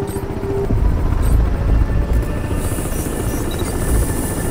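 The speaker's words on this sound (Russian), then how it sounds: "И у них есть поддержка с вертолетов." Helicopters in the game Crysis 3 give a loud, sustained rotor drone with a pulsing low thump, which eases slightly partway through as high-pitched hiss rises over it.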